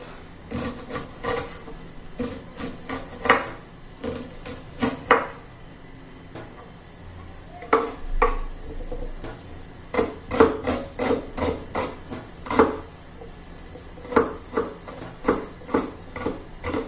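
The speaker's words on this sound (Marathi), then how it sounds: "छान असं कांदा कापला" Onion being finely chopped with a knife on a board for a quick lunchbox vegetable dish: a steady run of sharp, close knocks in uneven bursts, with brief pauses between clusters and no talking.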